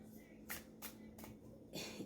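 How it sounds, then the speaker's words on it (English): A Nicoletta Ceccoli tarot deck is shuffled in several quick, crisp riffling bursts with short pauses between them, close and fairly quiet. "Shuffles very well."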